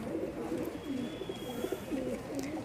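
A pigeon, a bajra bird with black nails and purple feet, coos close by in soft, repeated rolling calls with a low continuous murmur underneath.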